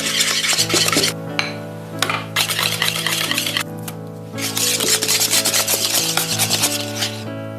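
Mascarpone being folded into whipped egg cream for a fruit tiramisu, giving continuous loud scraping and rubbing of a utensil against a mixing bowl, with a few brief pauses between strokes and no talking.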